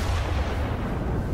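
A bomb explodes in Minecraft, a heavy low boom with a dense rumbling roar that holds loud and steady across the short moment, no voices present.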